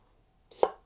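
A single crisp knife chop through an onion with a Wusthof Classic German chef's knife striking a cutting board, one sharp close thud after a brief quiet moment.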